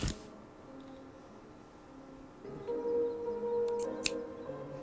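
Gilded scissors handled in the video game Habromania, heard as a few faint, brief metallic clicks over a quiet, steady game background.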